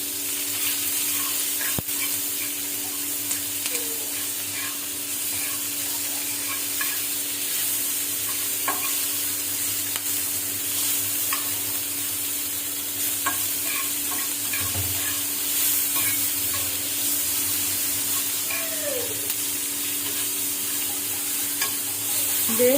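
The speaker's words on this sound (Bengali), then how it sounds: "বেরেস্তা করতে গেলে পেঁয়াজটাকে সমানে আপনাদেরকে ভালো করে ভাজতে হবে, খুব কড়া হবে।" Onions frying hard in a pan for biryani birista, being stirred as they crisp, with a steady close sizzle and occasional scrapes of the spoon across the full stretch, with no voices.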